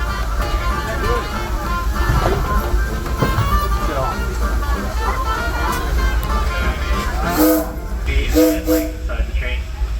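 Rumbling, rattling ride on the Disneyland Railroad behind steam locomotive Ernest S. Marsh, with continuous rolling noise, people talking over it, and a few tonal whistle-like notes near the end.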